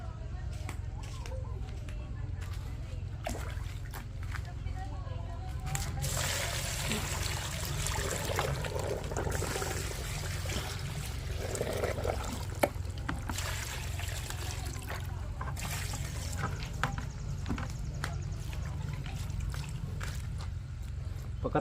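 Rainwater is poured into a mix for swamp fertilizer, a steady splashing trickle with a constant low rumble running throughout, while a person talks over it.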